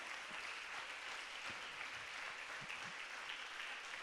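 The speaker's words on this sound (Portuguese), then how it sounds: "Você pode aplaudir o Senhor nessa hora?" A church congregation applauding during a Sunday school lesson, a fairly soft, even wash of clapping from a gathered crowd, continuous with a few low thumps.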